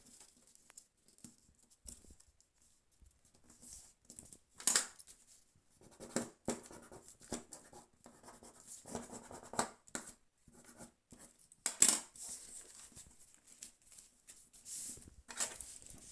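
Scissors press and rub along folded paper in a craft activity, a series of soft scraping, crinkling and tapping sounds, close and fairly quiet, with no talk.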